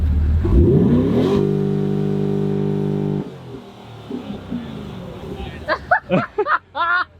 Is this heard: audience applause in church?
no